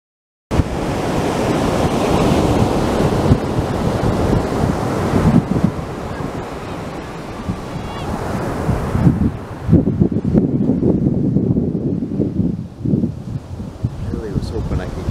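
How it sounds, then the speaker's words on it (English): Ocean waves wash in steadily at secluded Muir Beach, a loud, continuous broadband roar with gusts of wind buffeting the microphone, easing slightly toward the end. "the waves are a bit smaller here"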